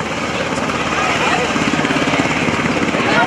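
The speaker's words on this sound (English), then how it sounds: "please focus your attention on the UH-60 landing at Show Center" Loud, steady rotor and engine roar of a UH-60 Black Hawk helicopter landing close by at an airshow, with a broad whooshing wash and a faint voice underneath.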